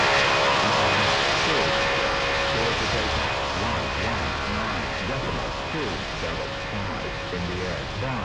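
An airliner takes off in the World of Airports airport-management game with a loud, steady jet-engine roar that holds for the whole stretch, a voice faintly present underneath.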